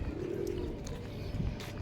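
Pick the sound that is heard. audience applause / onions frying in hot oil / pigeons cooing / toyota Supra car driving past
pigeons cooing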